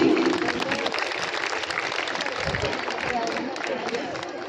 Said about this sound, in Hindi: बच्चे स्वागत करें तालियों से